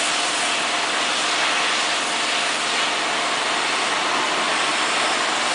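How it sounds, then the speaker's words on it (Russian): Street cleaning vehicle washing a city street at night, a loud continuous broadband roar and rush of engine and spraying water, steady throughout with no speech. "моют улицу, потому что ночью меньше движения"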